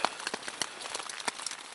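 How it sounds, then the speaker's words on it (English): Steady light-to-moderate rain falls on a backpacking campsite in Fort Mountain State Park: a soft continuous patter with scattered sharper drop ticks, fairly quiet and close, with no voices. "It's been raining pretty light to moderate, but steady all night."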